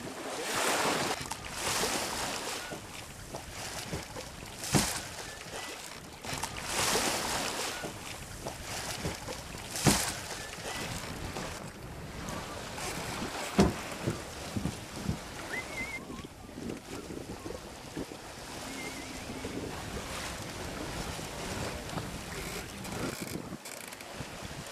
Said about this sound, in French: La voile claque et se gonfle sous l'esprit du vent.